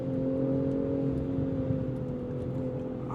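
A steady engine drone from a 2025 BMW M340i pulling out of a curve, a smooth sustained hum heard from inside the cabin at moderate level with no talking.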